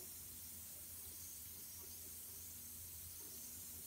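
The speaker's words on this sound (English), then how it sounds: "That is still fizzing." A Jurassic World fizzle egg dissolving in water gives a faint, continuous fizzing hiss that holds steady throughout, with no voices.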